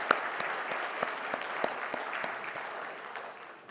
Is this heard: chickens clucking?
no